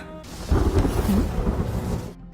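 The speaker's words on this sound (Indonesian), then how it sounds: "Tiba-tiba saja kilatan petir mulai menyambar" Rolling thunder from lightning strikes in a fantasy animated series, a deep rumbling crash that swells suddenly and sustains with a rain-like hiss before cutting off.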